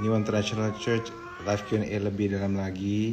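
A pet cat meows loudly and repeatedly at close range, with drawn-out harmonic cries that come one after another, while someone talks nearby.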